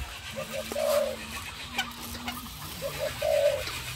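Ornamental birds at a bird farm give repeated short calls and coos, several overlapping bursts near and mid-distance against a steady outdoor murmur.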